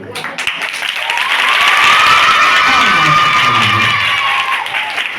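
An audience claps and cheers at a children's puppet show at a Vacation Bible School in Philadelphia, a loud, dense burst of applause that swells and holds, with children's voices mixed in.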